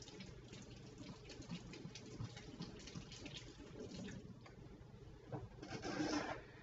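Fresh thyme rinsed under a running kitchen tap, a steady close stream of water splashing over the leaves that swells louder near the end.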